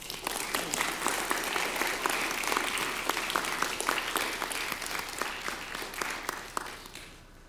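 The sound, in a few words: audience clapping in church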